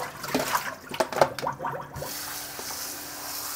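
Red dates rinsed under a running kitchen tap, a splashing, gurgling stream with shifting clatter for the first two seconds, then a steadier softer flow of water.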